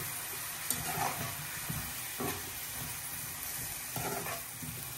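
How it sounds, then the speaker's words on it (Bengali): A spice paste with chopped tomatoes sautés in a pan, giving a steady, soft sizzle close by. A few faint stirring scrapes and clicks sit over the frying hiss. "এখন মশলাটা ভালোভাবে একটু কষাই নেই। আর দিয়ে দিলাম কয়েকটা টমেটো কুচি।"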